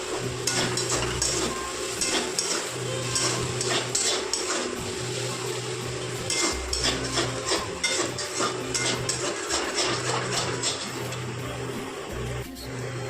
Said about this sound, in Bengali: ভেজে নেবো সব একসঙ্গে।